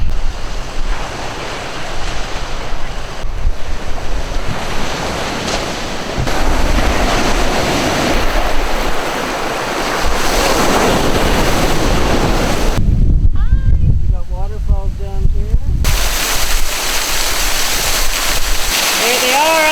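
Surf and wind at Blackbrook Beach, Nova Scotia: a steady, full roar of breaking waves with gusty wind buffeting the microphone, continuous throughout, with a brief quieter stretch where a voice and other sounds briefly come through.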